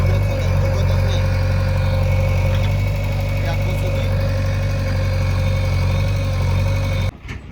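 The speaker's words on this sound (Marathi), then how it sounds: "ते आलं ट्रॅक्टर बघा." A farm tractor engine runs nearby with a loud, steady low rumble and drone, under faint voices, then cuts off abruptly near the end.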